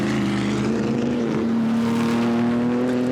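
Historic racing cars lap the Silverstone circuit through the Woodcote chicane during a Varzi Trophy race, an Alfa Romeo leading; a steady, loud engine drone with a sustained harmonic whine holds throughout, no voices.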